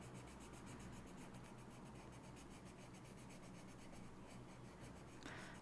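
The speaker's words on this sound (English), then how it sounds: "This pencil doesn't do quite as much scratching as the last one did." A colored pencil scratches on paper during relaxed coloring, a faint continuous rubbing with rhythmic strokes, quiet and close, with no talking.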